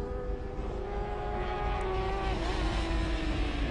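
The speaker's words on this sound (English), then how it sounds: "Napoleon is riding an excellent race aboard his new Kawasaki." Superbikes, including a new Kawasaki, race at the Lédenon circuit during a French Superbike round in 2011, with a loud, continuous high-revving engine whine that rises and shifts in pitch as machines pass, no speech.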